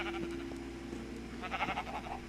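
Sheep in a pen bleat in the Minecraft video game, a couple of soft wavering bleats near the end of the stretch, faint and set against a steady background hum.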